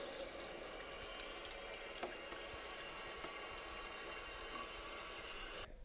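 Water steadily filling a toilet cistern after the supply is switched on, a constant hissing, trickling rush close by with faint clicks and no talking.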